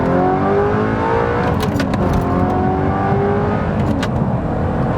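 Engine of an Audi R8 replacement car revving hard and accelerating, loud and close, with rising harmonics sweeping upward over a steady roar for several seconds and no talk.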